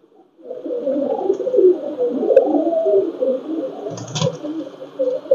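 A male Pakistani Teddy pigeon coos continuously at close range, a low rolling throaty call with a brief flutter-like rustle near the end.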